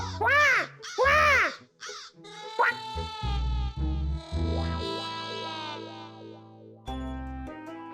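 A cartoon crow caws in two loud, harsh bursts at the start, followed by processed, effect-laden cartoon sounds and a sustained tonal passage, with a brief burst near the end.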